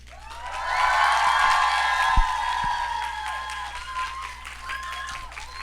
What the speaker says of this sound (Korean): 충분히 박수와 함성 더 한번 해볼까요?